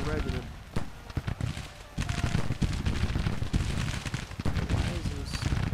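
Infantry rifle fire in a Civil War video game, as a steady crackle of gunshots and volleys rolls on under continuous battle noise and talk, growing denser partway through.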